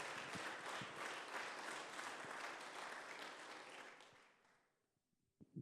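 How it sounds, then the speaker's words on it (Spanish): A church congregation applauding during a bilingual Spanish-English service: dense, loud, sustained clapping from many hands for about four and a half seconds, then quickly tapering off to near quiet. "Come on, give a strong round of applause to the Lord."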